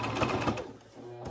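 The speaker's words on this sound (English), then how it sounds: "Sew all the way down and give that a back stitch." Sewing machine stitching down a pant leg, a close, steady whirring run that briefly eases and then resumes.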